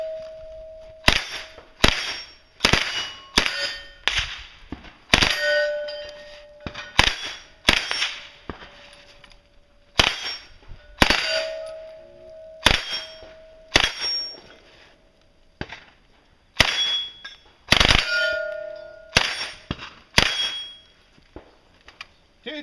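Rapid bursts of Uzi submachine gunfire, each string followed by sharp metallic pings of rounds striking steel targets, loud and close with short pauses between volleys, on a shooting competition stage.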